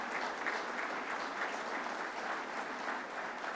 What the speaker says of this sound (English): Let's give a hand of applause to the people of Montserrat here today.